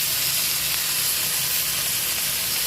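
Meat sizzling on a griddle, a steady loud hiss that runs on without a break.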